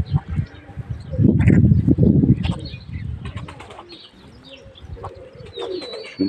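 Pigeons in a loft coo and flap their wings close by, a burst of wing beats and low cooing over several seconds with scattered soft calls, no talk.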